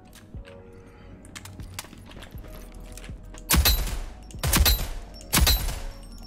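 Three short, loud bursts of gunfire from a weapon fired at targets in a game's shooting range, each burst sharp and dense, separated by brief pauses over a low background hum.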